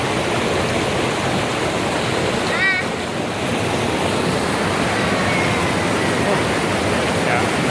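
A river waterfall near Tanjay in the Philippines roars in a dense, steady wash of noise close by, unbroken for the whole stretch, with a faint bird chirp cutting through briefly.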